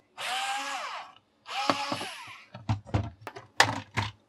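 A power screwdriver whirs in two sustained bursts, backing out a single screw on a 220–240 V, 3.5 kW DS35EC shower heater. Then come several sharp clicks and clatters of the casing and parts being handled up close.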